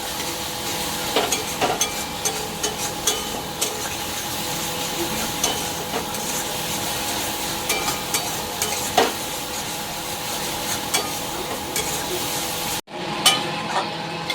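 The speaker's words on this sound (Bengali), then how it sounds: "এবার আমি মশলাটার ভিতরে ছোলাগুলো ঢেলে দেবো।" Stirring and frying in a pan as chickpeas go into fried spices for chole, a steady close sizzle with scraping spoon strokes throughout, no talk.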